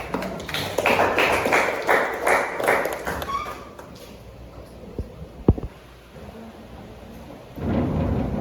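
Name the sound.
audience applause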